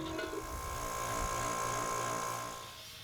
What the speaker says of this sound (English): coming back with an angle grinder to clean up all of the edges so I can weld on a end cap later on